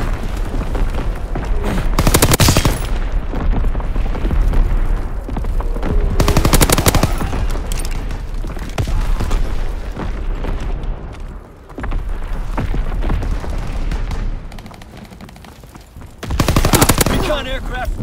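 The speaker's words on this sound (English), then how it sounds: "Firing primary battery." Naval primary battery guns in a video game fire in heavy, booming salvos with rapid rattling gunfire between them, loud and close, while a voice speaks at intervals.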